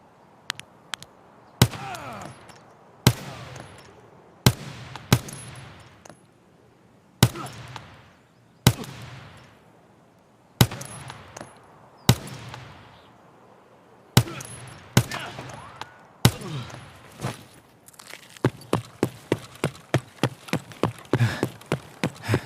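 Gunfire in the video game Escape from Tarkov: sharp, loud single shots at irregular intervals, each with a short decaying tail, ending in a quicker run of about a dozen closely spaced shots.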